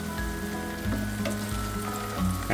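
Food sizzling steadily in a frying pan for a quick high-protein breakfast, a dense continuous frying hiss with small crackles, close and fairly loud with no talking over it.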